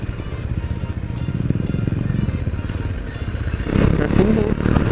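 Riding a motorcycle on a weekend trip toward Ananthagiri Hills in Vikarabad, with a continuous engine drone and road rumble close up, rising slightly in loudness near the end.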